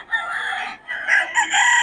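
A rooster crows loudly and close by, two quick harsh calls in succession amid other fowl at a chicken gathering in Bocaue.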